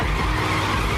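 Stolen car tearing away at speed, tires skidding and squealing loudly over a roaring engine, continuous and close for the full second, with no voices.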